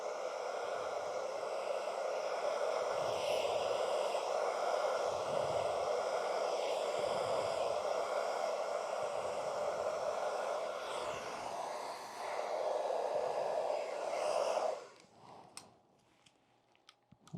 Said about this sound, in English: I got my blow dryer set on hot.